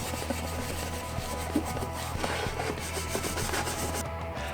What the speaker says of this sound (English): I'm also going to scuff this with some really fine steel wool, and that should really just prep this surface to take some paint